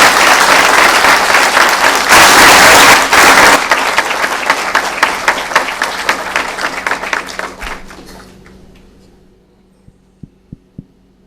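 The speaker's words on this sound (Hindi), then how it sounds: "आइए तालियां बजाकर बता दीजिए कि आप जानते हैं कौन सा राग बजने वाला है।" Concert audience applauding at an Indian classical music gathering in Indore, a dense loud wash of clapping that thins into scattered individual claps and then a few isolated claps near the end.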